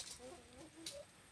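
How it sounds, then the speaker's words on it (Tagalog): Clucking from a fighting rooster kept at a rural home beside a copra kiln, a few soft close calls over quiet background. "Tapos andyan naman yung ating alaga o na mga panabog na manok."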